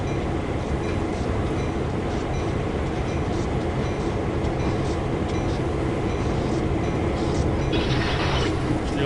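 A Canadian National freight train with five locomotives rolls along the Oakville Subdivision in Train Sim World, a steady loud rumble with rhythmic wheel clatter and mechanical rattling throughout.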